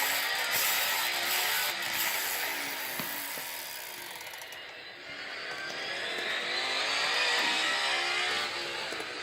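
Race car engines roar in an All-Star race of a NASCAR-style Cup Series racing video game, with several cars whining and buzzing together in a continuous dense drone that swells, dips and builds again.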